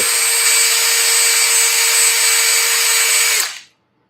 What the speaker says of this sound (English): I'm just letting the disc do the work. I'm barely holding the drill